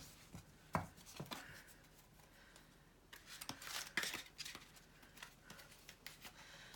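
Stiff cardstock tarot cards being shuffled by hand, giving a run of crisp, papery riffles and slaps in uneven bursts, close and fairly quiet, with no talking.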